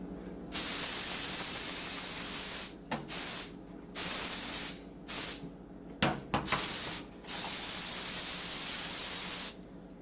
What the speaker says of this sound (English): spray it with some cooking spray